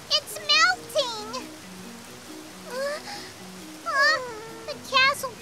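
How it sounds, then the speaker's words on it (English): Steady rain falling in a cartoon, a faint continuous patter heard under cheerful animated child-like voices talking. "It's sure raining a lot!"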